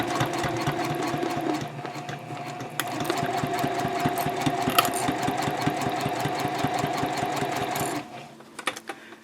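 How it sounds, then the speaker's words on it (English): A sewing machine stitches around a double zipper pouch, its needle hammering in a fast, steady rhythm up close for about eight seconds before stopping abruptly, with a few scattered clicks after. "And then I'll keep sewing around."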